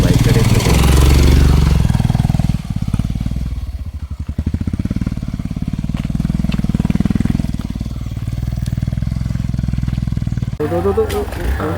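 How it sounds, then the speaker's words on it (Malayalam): Motorcycles of several bike riders climbing a dirt road uphill, engines droning and revving steadily near the listener throughout, with people talking over the engine noise. "അവർ മുകളിലോട്ടുള്ള യാത്രയാണ് ബൈക്ക് റൈഡേഴ്സ്."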